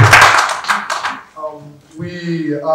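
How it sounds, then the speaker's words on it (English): A room audience applauds the president at a Nigerian High Commissioner's visit, with a dense burst of close hand claps that thins out and fades, while a voice talks over the end. "A round of applause for our president."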